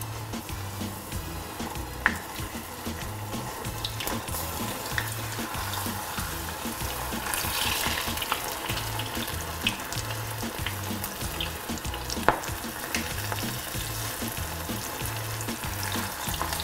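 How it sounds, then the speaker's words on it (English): Apple fritters in batter frying in hot oil, a constant crackling sizzle with scattered sharper pops and some stirring clatter, steady and close throughout with no talk. "work your way through all of the fritters and get them all cooked in the batter"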